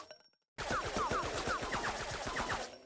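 P90 submachine gun in Roblox firing a fast, steady stream of sharp shots after a brief quiet moment, continuous for about two seconds before trailing off, with no talking.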